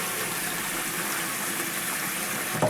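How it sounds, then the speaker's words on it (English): Tap water gushes steadily into a bowl for about three seconds, a loud, even broadband rush with no talking, ending in a small clunk as the flow is shut off. "So we're just gonna open the tap."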